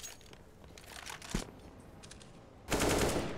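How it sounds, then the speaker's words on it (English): AK rifle fire in a Counter-Strike match on the Overpass map comes as a few scattered shots followed by a loud, sustained burst of automatic gunfire near the end. "Falling back as the AK connects on Farvin"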